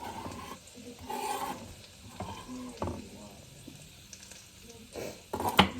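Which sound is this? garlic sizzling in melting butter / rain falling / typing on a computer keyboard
garlic sizzling in melting butter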